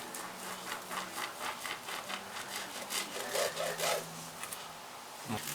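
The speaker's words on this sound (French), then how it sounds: "Pour couper les bords, je conseille en général un couteau avec des dents." A serrated knife saws back and forth through the edges of a light bûche de Noël cake, giving soft, rhythmic rasping strokes that are close but quiet.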